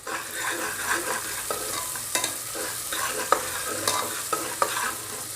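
Onions with crushed ginger and garlic sautéing in a pan, stirred with repeated scraping clicks over a constant crackling sizzle, close and fairly loud.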